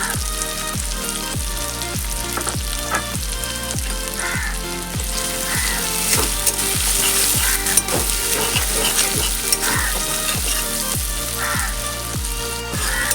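Moong dal and ash gourd sautéing with ground cumin in a pan: a steady close sizzle broken by regular scraping stir strokes about twice a second, with no talking.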